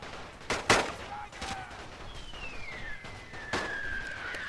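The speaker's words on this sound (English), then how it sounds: "I hear artillery" Artillery and rifle fire in a World War I battle in Battle for Kassel, The Great War mod: sharp distant bangs at irregular intervals, a falling whistle of an incoming shell across the second half, and battle noise throughout.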